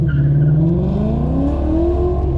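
An autocross race car accelerates hard at a border wars event, its engine note climbing steadily in loud, continuous revving harmonics with a hint of tire noise throughout.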